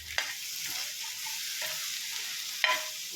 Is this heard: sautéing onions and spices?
yes